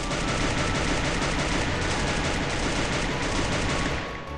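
Rapid, dense automatic gunfire from weapons in the mobile shooter game Free Fire, including a Galaxy Fire–skinned SCAR, MP5 or M60, a continuous loud burst that tapers off at the end.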